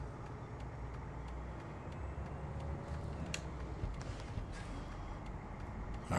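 International 9800 truck engine in American Truck Simulator, a steady low diesel drone running continuously with faint hiss and clicks on top, moderately quiet and without talk.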